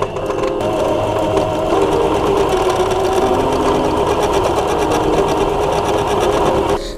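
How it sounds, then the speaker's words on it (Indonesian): A sewing machine stitches shantung fabric for a blouse, running in one continuous close, loud, rapid mechanical whir that stops near the end. "Dipaskan 2 cm, lalu kita jahit."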